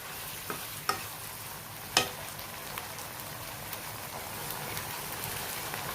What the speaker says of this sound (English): Now add sliced mushrooms and cook them for 2 minutes on high flame